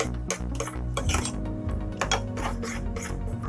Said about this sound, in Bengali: চামচ দিয়ে মিশিয়ে নিচ্ছি ভালোভাবে।